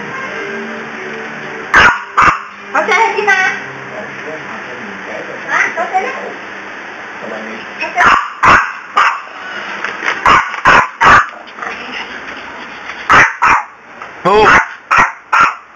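Small dog barking in sharp clusters of yips and barks spread across the stretch, loud and close, alternating with people talking and calling out.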